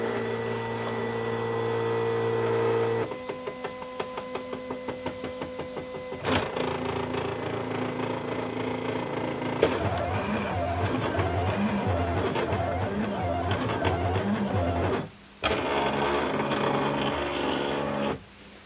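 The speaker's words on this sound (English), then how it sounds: "The next material I'm cutting is Cricut faux leather sheets. Here's the first double cut." A Silhouette Cameo with a deep cut blade slicing Cricut faux leather sheets on a double cut, a steady mechanical whir and buzz with stepping motor tones that shift pitch as the carriage moves, with brief pauses between passes.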